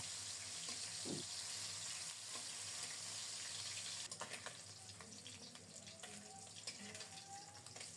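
Small topse fish dusted with rice flour fry in oil, giving a steady hiss throughout with a few scraping sounds and faint clatter in the second half.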